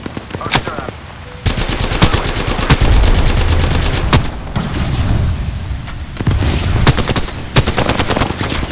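Rapid gunfire from the Apex Legends battle royale shooter: dense, loud bursts of automatic shots crackling almost continuously, with a few heavier booms and brief pauses between volleys.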